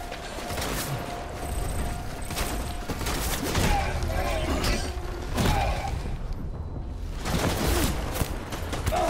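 Rapid bursts of gunfire in the video game Death Stranding, loud and repeated in clustered volleys over continuous in-game rumble and mechanical noise.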